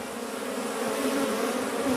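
A swarm of angry wild African honeybees hums in a dense, continuous buzz, steady and close throughout with no talking.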